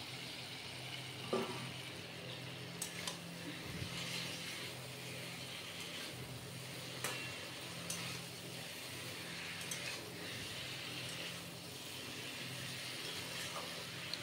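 Raw banana sautéing in a pan with spices, a faint continuous sizzle broken by occasional scrapes and clicks of the spatula, quiet and steady with no talk.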